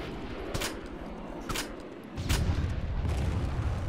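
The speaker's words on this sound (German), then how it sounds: "Oh, Schüsse auf mich." Gunfire in a multiplayer shooter video game: three or four sharp, distinct shots spaced about a second apart over a low, rumbling battle background, loud and close.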